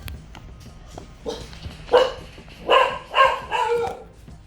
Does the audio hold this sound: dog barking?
yes